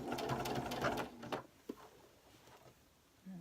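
Sewing machine stitching fabric to set pleats and ruffles, a close rapid whir for just over a second, then it stops with a small clunk and quiet room noise follows.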